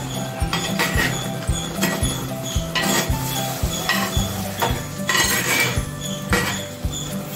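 Sardine curry being stirred in a pan, a rhythmic series of clinks and scrapes from a utensil against the pan over a soft sizzle.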